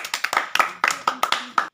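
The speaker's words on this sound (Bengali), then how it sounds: "এটা আলগা হাততালি।" Light clapping of around a dozen quick, soft, uneven claps from a few hands at a village ludo pawn-rolling game, where a consolation chocolate is given, heard close and on their own.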